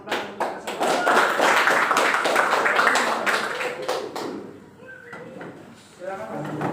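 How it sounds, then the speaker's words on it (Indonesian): Applause from a class of schoolchildren in a classroom, a dense burst of clapping that fades after about four seconds, then a brief quieter patter. "tepuk tangan untuk kesempatan"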